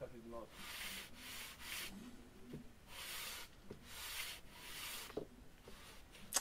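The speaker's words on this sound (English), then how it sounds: "So I put some kicker on and then again run the sandpaper across it." Sandpaper rubbed back and forth over a glued balsa tailplane seam on a SLEC Sky 40 model plane, in several steady strokes with short pauses between them, close and fairly quiet.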